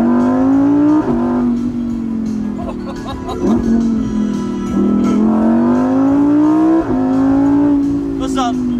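Lamborghini engine revving hard inside the car, a loud sustained drone rising and falling in pitch with brief dips between revs, heard close and continuous.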